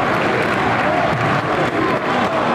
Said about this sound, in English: I'm going to stop commenting and I'm going to clap.